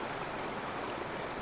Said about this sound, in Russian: Водопады и камни падают.